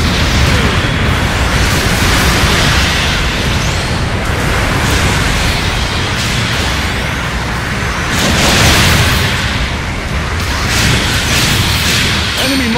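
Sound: mobile suit explosion in video game Gundam Battle Operation 2

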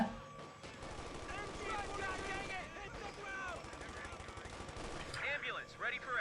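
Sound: gunfire in the video game Company of Heroes 2

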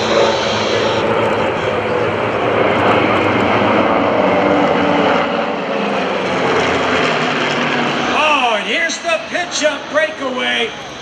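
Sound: RV aircraft flying past at airshow

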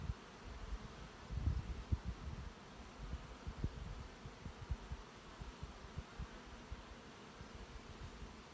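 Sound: honey bees buzzing in hive

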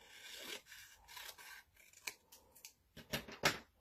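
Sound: scissors trimming two sheets of regular paper

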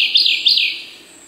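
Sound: nightingales singing by the Chumysh river

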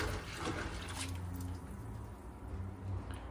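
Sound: rinsing corn under running water

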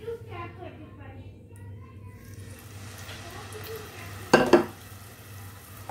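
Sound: masala paste frying in ghee in a pan

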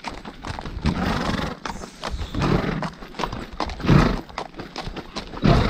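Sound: horses being herded, hoofbeats

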